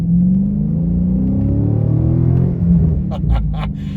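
A Chrysler 300C with the 6.4-liter Hemi V8 revs loudly in a steady, close rumble, the deep engine note rising and falling with a few sharper bursts near the end.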